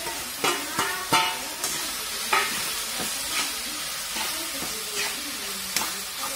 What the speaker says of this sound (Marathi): वांगा टाकलेला आहे परतायला आणि त्याच्यामध्ये आपला जो परतलेला कांदा आहे का तो पण टाकायचा आणि सगळं मिक्स करून घ्यायचं